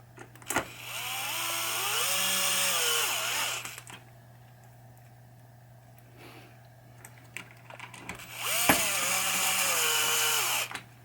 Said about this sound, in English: Screwdriver. These screws just have a little crud on the heads